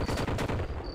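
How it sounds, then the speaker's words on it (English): An MG42 machine gun fires in the game They Hunger, a rapid string of loud, closely spaced shots in a fast, even rhythm lasting about a second. "MG42."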